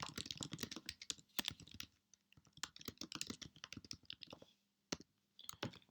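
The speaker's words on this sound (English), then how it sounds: "I'll type in something in here." Someone types an edit into a README file on a computer keyboard. The keys clatter quickly and unevenly, close and fairly quiet, with brief pauses between runs of keystrokes.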